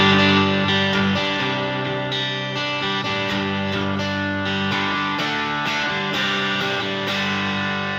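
A heavily distorted electric guitar through a ProCo Rat distortion pedal plays sustained chords with a thick, buzzing tone and a few strummed attacks, with no voices.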